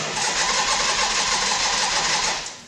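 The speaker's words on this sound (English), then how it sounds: "Colin, hit the starter button. She's cranking at least." A 1980 Harley-Davidson Ironhead Sportster motorcycle engine cranking on its electric starter, a loud, steady whirring churn that runs without catching and then tapers off.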